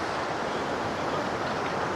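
A river in spate, swollen and muddy with rainwater, rushes in a dense, steady roar of broadband noise, close and continuous throughout, with no voices.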